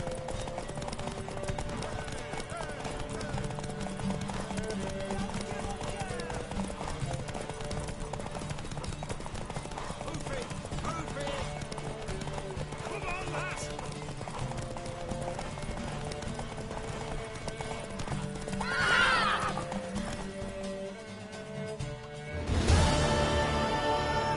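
A horse's hooves clip-clop at a gallop in The Witcher 3 video game, a steady rhythmic beat under continuous game music and ambience, with a swell of other sounds near the end.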